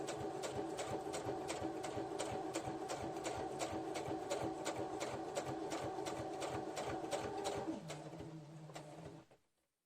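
A sewing machine runs steadily at close range, stitching decorative stitches with a fast, even mechanical rattle, then winds down and stops near the end.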